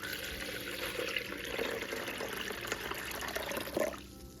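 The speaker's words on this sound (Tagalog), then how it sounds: "Tapos lagyan po natin ng tubig." Water runs steadily from a tap into a plastic basin holding salt for soaking fish, a continuous close splashing and trickling that ends with a brief gurgle.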